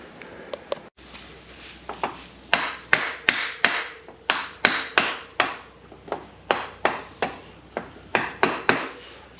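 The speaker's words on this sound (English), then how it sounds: "I'm going to try to pound the axle out now." A hammer pounds an XR650L motorcycle axle out through a block of wood in a steady series of sharp, ringing blows, loud and close, with brief gaps between strikes.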